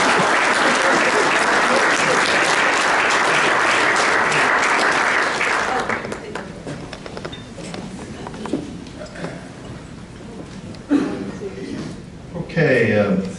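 Rotary Club members applaud two new blue badge members, a dense, loud burst of clapping lasting about six seconds before it fades into murmuring and scattered room noise.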